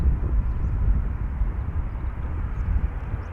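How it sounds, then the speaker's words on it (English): A KLM Boeing 787-10 Dreamliner arrives from San Francisco, producing a low, rumbling engine drone that wavers slightly but stays steady and fairly close, with no talking. "78710 Dreamliner arriving from San Francisco, KLM flight 606."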